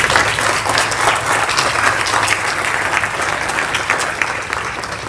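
Steady, loud applause from an audience at a school end-of-year ceremony and prayer service, a dense crowd of clapping hands sustained evenly throughout without a break.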